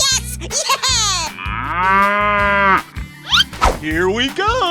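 Cattle moo loudly and up close in a 3D animal slide video game, with long drawn-out lowing calls mixed with excited voices and thumping impacts.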